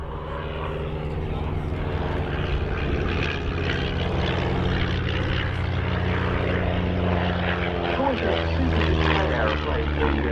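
A de Havilland Chipmunk propeller plane flies a solo display at an RAF Cosford air show, its engine drone loud and continuous throughout with a steady, slightly shifting pitch, and a commentator talks over it.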